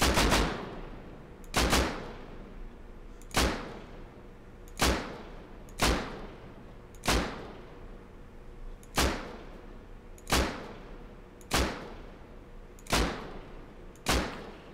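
Automated turret in the video game Rust firing repeatedly, eleven sharp, loud shots spaced about every 1.3 seconds, each with a short decaying tail, alone without talk.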